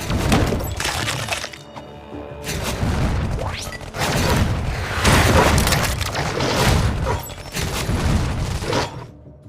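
Grenade blasts in the Iron Marines video game: repeated loud booms and shattering crashes, one burst after another for several seconds, with brief lulls between the detonations.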